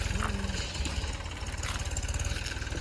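A farm tractor's engine idles nearby with a low, steady, rapid thumping pulse that keeps going the whole time, with faint background noise.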